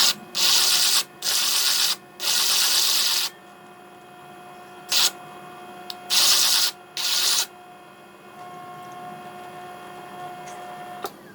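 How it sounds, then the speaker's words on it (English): Diamond grit disc sanding the bottom of a glazed ceramic pot, a finer grit pass in bursts: several loud, gritty abrasive rasps about a second long, separated by brief pauses, with a steady motor hum carrying between them. "I'm gonna go in with a finer diamond grit so we can like get this bottom buttery smooth"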